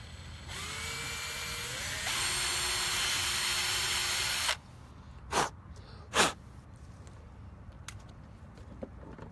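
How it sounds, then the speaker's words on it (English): Power drill running a step drill bit to widen a hole to 3/4 inch in an S550 Mustang bumper, a close whine rising then holding steady for about four seconds before stopping, followed by two short bursts. "we'll proceed with the step drill bit that drills the hole out to a perfect 3/4 inch hole"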